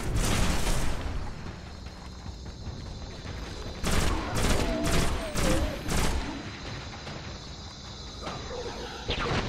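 Rapid gunfire bursts and explosive blasts from a sci-fi shooter game battle on Mars in Destiny, loud and repeated with short pauses between volleys and a constant rumbling background.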